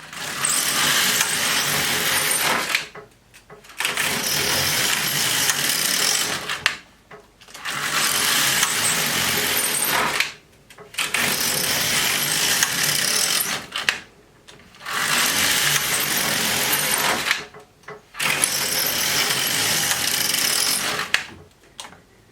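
An LK150 knitting machine carriage is pushed across six rows in turn, each pass a loud whirring rattle of two to three seconds separated by short silent pauses.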